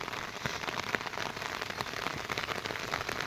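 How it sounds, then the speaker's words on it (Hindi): Rain falls steadily on sugarcane farmland, a dense, even patter of drops on surfaces with no voices. "जब तक बारिश रहेगी कुछ नहीं कर सकता।"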